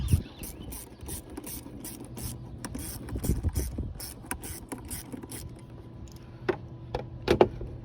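A hand ratchet loosens a 7mm bolt on the mass airflow sensor of a 2015 Ford Focus, giving rapid clicking pawl strokes in bursts with metallic ticks, close and continuous, ending in a few sharper clicks.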